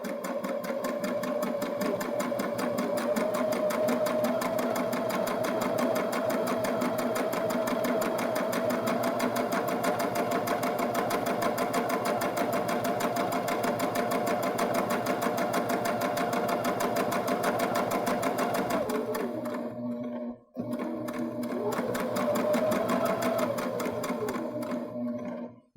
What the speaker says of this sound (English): we're going to stitch number 11 down almost to the end